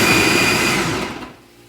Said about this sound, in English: I'm just gonna blend up some squash and lots of garlic.